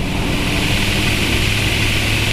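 An Evektor Sportstar's engine running up at 3000–4000 rpm with the parking brake set, a loud steady propeller drone heard from close by without a break.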